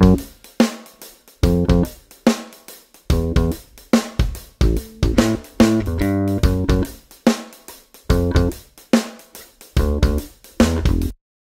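An amplified electric bass plays a punchy, rhythmic line of short plucked notes with brief gaps, deep and close, with no talking.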